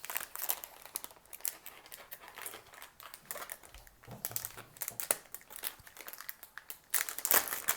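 Close, continuous crinkling and rustling of a plastic parcel package holding a carburetor repair kit as it is pulled and torn at, with uneven bursts and brief pauses.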